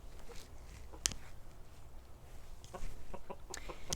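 Backyard chickens in a wooded homestead chicken yard, clucking and murmuring softly in the distance with a few sharper clucks scattered throughout, under a low outdoor background and no talk.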